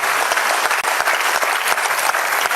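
Dense, sustained applause from a poetry recital audience, many hands clapping together in a steady roar with no voices over it.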